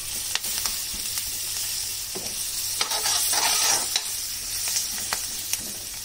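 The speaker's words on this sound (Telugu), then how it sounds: "మంచిగా ఫ్రై అవ్వాలి ఇది" Green chilies fry in a pan with leftover tamarind-style curry, giving a steady, close sizzle broken by repeated scraping stirs of a utensil against the pan.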